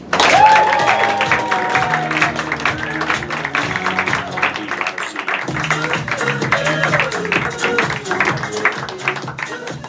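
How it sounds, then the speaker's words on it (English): A live audience at a comedy event claps and cheers to welcome a performer to the stage, loud at first, then a sustained patter of hands with some scattered voices mixed in. "Big PRC round of applause for Gina Winsky."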